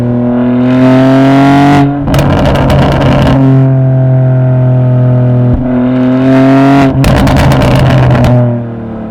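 BMW G80 M3 fitted with a Remus race exhaust in Sport Plus, giving a loud, deep, steady burble close by, broken by two bursts of sharp crackling pops.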